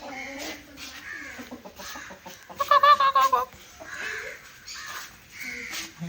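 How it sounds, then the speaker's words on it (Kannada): A white turkey calls in a bird enclosure, giving a short burst of loud, rapid gobbling calls in the middle, while other fowl cluck and call faintly around it. "ಇದು ವೈಟ್ ಟರ್ಕಿ"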